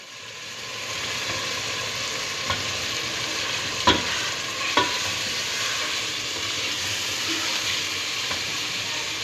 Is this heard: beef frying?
yes